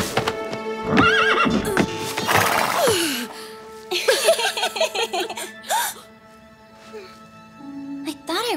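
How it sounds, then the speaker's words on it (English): A restless horse in a Playmobil princess cartoon neighs and whinnies several times, with clip-clop hoof steps and brief gasps, while characters talk in between. "He's a very restless horse."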